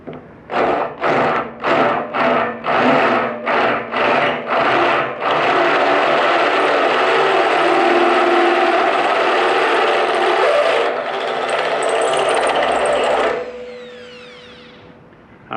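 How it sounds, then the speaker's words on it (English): A small drill fitted with a big bit bores while a cow brush is installed, first in a run of short rhythmic bursts, then a long sustained loud whine that drops in pitch and stops. "That's a big bit for a little drill, isn't it?"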